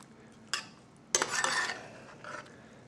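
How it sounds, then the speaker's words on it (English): Spicy tomatoes being stirred into food in a pot, heard as a few separate scraping and clinking strokes of a utensil against the cookware with a faint sizzle between them. "Stir that up real good while we're going."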